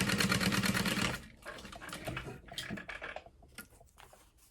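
Sewing machine stitching a mini clutch wallet with a magnetic snap, running loud and steady for about a second in a fast rhythmic whir, then stopping and leaving quieter handling clicks and rustles.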